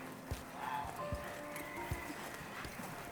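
A horse clip-clops at a slow walk outdoors, with several distinct hoof strikes spaced across a quiet rural scene; a faint tonal background sits underneath.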